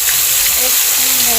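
Fish fries slowly over low heat in a pan, giving a steady, loud, continuous sizzle with faint voices underneath.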